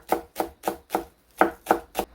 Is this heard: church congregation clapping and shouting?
no